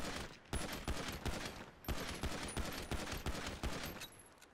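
Rapid gunshots in a role-playing video game on a multiplayer server: dense, loud volleys of close fire repeat steadily throughout with short pauses, and no talk over them.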